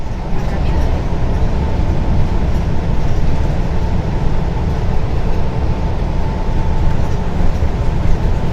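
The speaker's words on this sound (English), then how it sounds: "You can see this bus is running along where the tram bus runs" A city bus in Venice rumbles steadily along a route shared with the tram, a loud continuous engine and road drone with no breaks, heard from close by.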